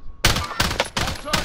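Three sharp bursts of automatic gunfire from Call of Duty: Warzone in Cold War, loud and close, each volley lasting a fraction of a second with brief gaps between.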